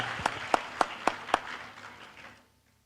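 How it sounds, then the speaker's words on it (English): Audience applause at an Indonesian-Europe business forum, made up of a handful of sharp, evenly spaced claps over a softer wash of clapping that fades out within a couple of seconds. "Give a round of applause to Sanggar Tari Ranting Laras"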